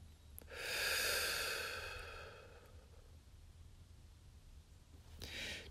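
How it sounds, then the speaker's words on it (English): A single deep breath in and out, a long airy inhale swelling and fading over about two seconds, then quiet, and a short breath near the end, close and soft. "take a deep breath in and a deep breath out"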